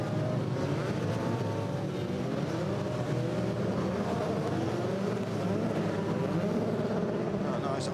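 Formula 3 single-seater race cars from the European Championship circulate on track, their engines a dense, continuous drone with wavering pitch, heard at moderate distance under a broadcast voice.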